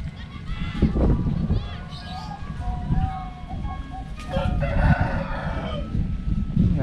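Chickens cluck and a rooster crows in a densely packed village neighbourhood of Surabaya, under people talking nearby and the rumble of street activity, with a tinkling melody at times.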